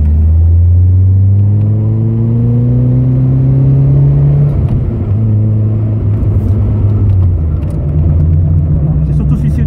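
Car engine rising steadily in pitch as it accelerates, loud and close throughout, with a brief dip and then another climb; a person speaks over it.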